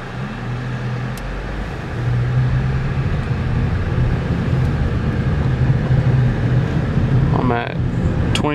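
Steady low road and engine rumble from inside a moving 2009 Honda Accord LX, a continuous drone that grows slightly louder partway through as it speeds up to about 40 mph.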